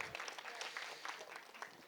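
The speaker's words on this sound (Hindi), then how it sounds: "जोरदार तालियां हो जाए" Faint, steady applause from an audience at the Jatt and Juliet 3 trailer launch, continuous and distant-sounding.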